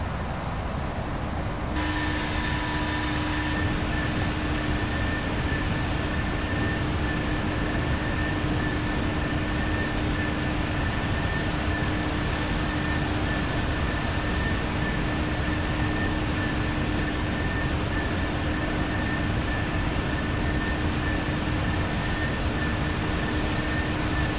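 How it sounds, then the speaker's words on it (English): Constant jet engine roar fills an airliner cockpit in flight from Copenhagen to Edinburgh, a steady broadband hiss with faint thin tones running through it, unchanging and with no voices. "I should just listen to jet engines all day."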